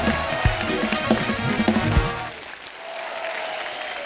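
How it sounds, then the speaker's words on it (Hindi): Studio audience applause at a comedy show rises as a dense burst of clapping for about two seconds and then fades away into a quieter room. "इनके लिए जोरदार ताली हो जाए"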